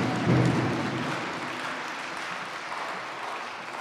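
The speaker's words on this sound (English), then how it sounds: "Just give them a big round of applause." An audience at a university president's installation ceremony applauds rap performers taking the stage, a steady wash of clapping from a sizable crowd lasting throughout without speech.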